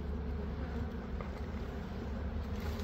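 Bees buzz in a steady, dense drone throughout a bee rescue, a continuous low hum close by with no talk over it.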